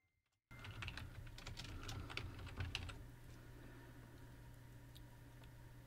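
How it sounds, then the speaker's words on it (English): Typing a name on a computer keyboard, a steady patter of fast key presses close by that starts abruptly after a moment of silence and runs on with a faint background hum. "And then I'm going to type my name."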